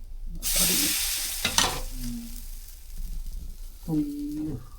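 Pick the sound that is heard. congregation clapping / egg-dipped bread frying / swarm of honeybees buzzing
egg-dipped bread frying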